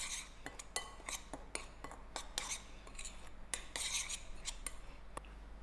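Turmeric, cumin powder and sugar are mixed for a methi and cream-of-corn lagan, with soft spoon clinks and scrapes against a bowl coming in short, irregular taps, quiet and close.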